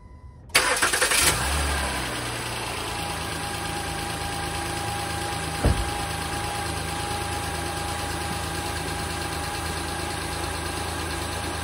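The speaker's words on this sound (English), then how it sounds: "Let me crank the engine." A 2015 Honda Pilot 3.5L i-VTEC V6 cranks briefly, catches and settles into a steady, even idle close by. One short clunk is heard partway through, with no talking.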